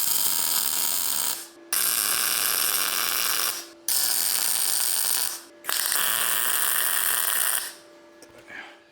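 Tack welds being laid on a Ford 8.8 rear end swapped under an S10, heard as several loud, steady crackling buzzes, each lasting a second or two, separated by brief silent pauses.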